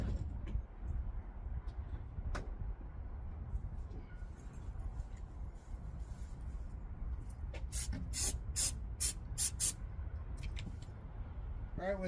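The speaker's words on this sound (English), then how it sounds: "try to get a squirt of starter fluid in there" Aerosol can of starter fluid spritzed into the air cleaner of a Jeep YJ: a series of short, sharp hissing bursts clustered near the end, over a low rumbling background with faint talk.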